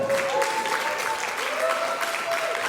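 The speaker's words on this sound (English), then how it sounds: "Give her a round of applause" Steady audience applause at a business talk forum, a dense wash of clapping that continues at even loudness throughout with faint voices beneath.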